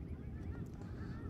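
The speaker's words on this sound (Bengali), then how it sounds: "পাখির ডাক শুনতে খুবই সুন্দর লাগছে আর কি।" A huge flock of dark birds resting on a river in the afternoon, giving faint, distant honking calls that overlap in a continuous low chorus.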